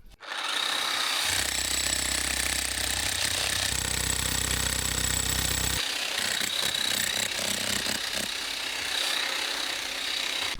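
A loud, steady drone from a large drill boring a 12.5 cm diameter hole grinds on continuously, shifting pitch and roughness partway through as the bit bites into material.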